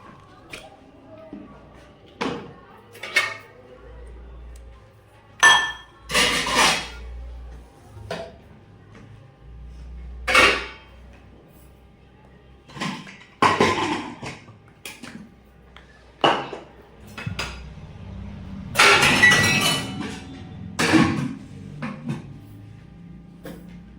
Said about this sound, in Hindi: अब बज रहे हैं 3:40 और अम्मा से धुलने जा रही है बर्तन।